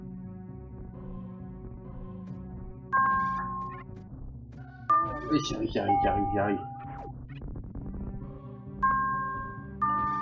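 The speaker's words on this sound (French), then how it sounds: "le téléphone qui va, le Discord qui va" Phone and Discord notification chimes ring out in bright tonal bursts, repeating several times over a game's background music while a person speaks briefly.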